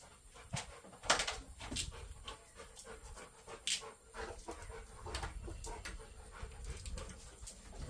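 A dog pants rapidly and whimpers close by for several seconds in a home garage setting, with scattered faint knocks and a distant bird in the background.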